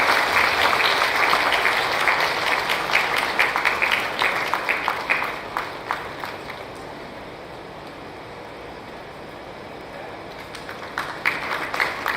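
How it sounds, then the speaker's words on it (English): Audience at an MIT 75th year celebration gives a big round of applause, dense clapping that swells loud, fades to a low murmur midway, then picks up again in scattered claps. "A big round of applause, ladies and gentlemen."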